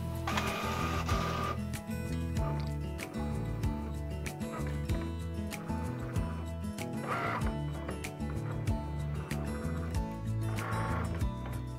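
An EnviPhoto inkjet printer printing a design, a steady mechanical whir with repeated ratcheting clicks and periodic louder passes of the print head, continuous and fairly close.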